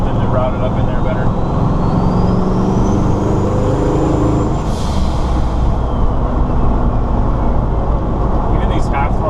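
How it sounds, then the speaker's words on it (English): A turbocharged Ford 460 V8 pulls at half throttle, a loud continuous engine roar with a rising whine as boost builds, close and steady throughout. "Even these half throttle pulls, it just shoots up to 8 psi like it's nothing."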